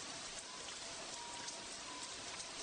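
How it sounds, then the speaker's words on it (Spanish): Steady rain falling and pattering on surfaces, a dense even hiss with scattered drop clicks throughout, close and continuous with no voices. "Realmente está lloviendo ahora."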